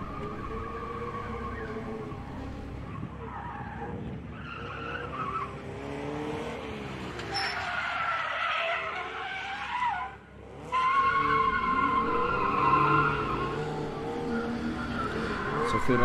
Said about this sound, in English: Looks like Lorcan's gonna go out again with the 5-liter Mustang on the warm-up section.